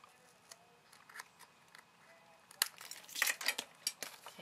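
Scissors snip paper in a craft session, quiet at first and then a burst of sharp, close cuts and crinkles, roughly a dozen snips in quick succession.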